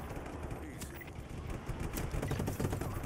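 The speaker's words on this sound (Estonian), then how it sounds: "need explosionid see mängus on väga OP-ed" Rapid, continuous crackling bursts of explosions and gunfire-like blasts in the action video game Just Cause 3, dense and loud throughout with no clear gaps.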